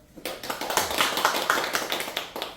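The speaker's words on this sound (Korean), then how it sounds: "박수 한번 쳐줘요." Hands clapping in a Bible college lecture hall on John's Gospel, a short burst of scattered claps from a small group of students, close and fairly loud, with no talking over it.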